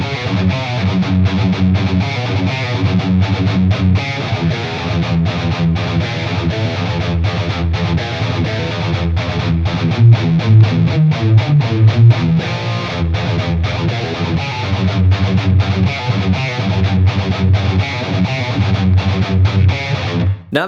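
A loud, distorted electric guitar drives through a long E riff, a relentless stream of muted chugs and accented notes over about twenty seconds, with no talking.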